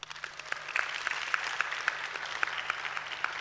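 Audience applause at a leadership conference, a steady patter of many hands clapping with sharp scattered claps, moderately loud and continuous through the clip.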